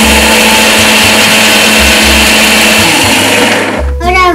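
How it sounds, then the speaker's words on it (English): Cashew nuts ground in an electric blender for a rice kheer, a loud, close, continuous motor whir with pulsing changes in pitch as the load shifts, ending as the motor winds down. "For the first step, let me grind the cashew nut."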